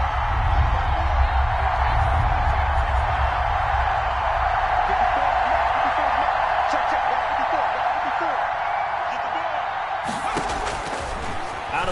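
Crowd in a PS4 American football video game ahead of a big third down, a continuous roaring stadium crowd under steady commentary, rising into a sharper burst of cheering near the end.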